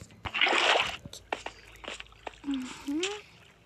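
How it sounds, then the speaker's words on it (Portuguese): Water splashes and sloshes as a bucket scoops from a small river in Minecraft, short liquid bursts with game sound effects between them and a brief whistling tone near the end. "Precisa de mais água. Vou pegar aqui no riozinho."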